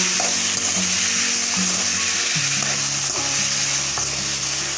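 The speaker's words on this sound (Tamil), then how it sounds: "நல்லா வதக்கி விட்டுக்கலாம்." Tomatoes and onions with rock salt sauté in a pan for tomato and coconut chutney, giving a loud, steady sizzle and fry with occasional stirring scrapes throughout.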